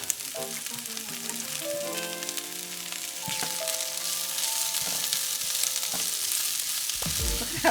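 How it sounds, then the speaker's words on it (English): Vegetables sauté in oil in a pan, a steady broadband sizzle running the whole time with occasional stirring clinks and scrapes; faint tonal kitchen sounds early on, no talking. "Saute that around a little."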